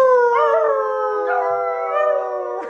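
A dog howls in a long sustained wavering tone, rising and falling over about three seconds, close and clear with no other sounds.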